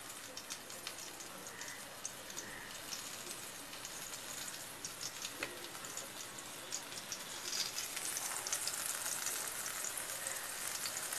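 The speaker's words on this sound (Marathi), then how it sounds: "दोन्ही साईडला थोडं तांदळाचं पीठ लावून, कडक राहण्यासाठी तांदळाचं पीठ लावते आणि पीठ लावून आपण हे फ्राय करून घेणार आहोत" Stuffed snake gourd pieces coated in rice flour fry in a pan, giving a steady, faint broadband sizzle with soft crackles that swell slightly louder toward the end, with no talk over it.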